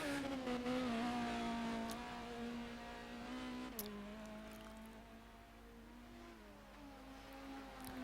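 GT Porsche race cars in rFactor 2 during a three-hour endurance race at Silverstone hold a steady engine drone with shifting pitch, the engine note dropping and climbing again, heard faintly with no talk.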